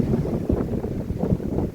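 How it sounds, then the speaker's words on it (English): Strong wind buffets the microphone outdoors at a dam fishing area, a constant rumbling roar with gusty pulses and no voices. "Windy as hell."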